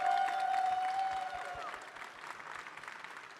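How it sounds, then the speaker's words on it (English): A big round of applause for three players on stage at a card game tournament in Dallas, loud at first and gradually thinning out, with a steady high tone running underneath early on. "one last big round of applause for them."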